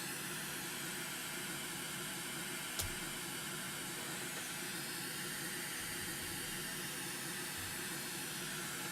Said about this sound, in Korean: 핑크 노이즈를 동축 스피커에서 발생시키고요